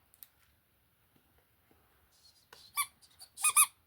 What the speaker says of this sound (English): Oh no, they're squeaky toys.